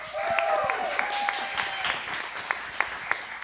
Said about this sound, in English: Clap louder for Aaron.